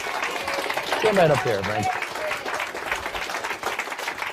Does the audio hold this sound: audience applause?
yes